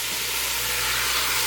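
Meat hits a hot pan with steady, loud broadband sizzling and hissing, in a dish of meat cooked with spices. The sound is continuous and close, with no talking.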